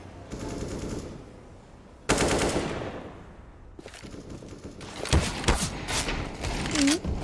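Automatic rifle fire in a Counter-Strike: Global Offensive esports match between Originem and Galaxy Racer, loud sustained bursts separated by brief gaps with overlapping shots and game effects, with a commentator's voice faintly underneath.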